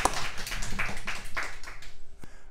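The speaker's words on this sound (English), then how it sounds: "And audience, how about if we hear a round of applause for Fred?" A small audience claps for an author at a book podcast event, giving a short, thin round of scattered claps that tapers off after about two seconds.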